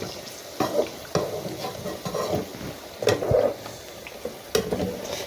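Plantain slices for aloko frying in hot oil in a pan, giving a soft steady sizzle broken by several brief louder bursts of stirring and scraping, close by with no talk.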